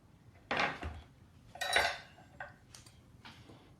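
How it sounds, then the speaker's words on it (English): Mushrooms being layered into a small casserole dish, giving a few light clinks and soft knocks against the dish, spaced irregularly in a quiet kitchen. "I'm going to start layering my mushrooms into a little casserole dish."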